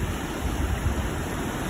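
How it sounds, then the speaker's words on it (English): Atlantic Ocean surf in the evening, a steady broadband wash of breaking waves with a low rumble, continuous and fairly close, with no voices over it. "I have waves."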